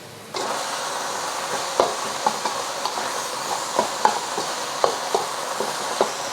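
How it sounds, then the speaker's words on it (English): Ground pork sears in a pan over medium-high heat for a spicy minced pork and glass noodle dish, giving a steady close hiss that starts suddenly and is broken by light scrapes and taps from a utensil. "Just going to let that sear for a little bit before moving it around."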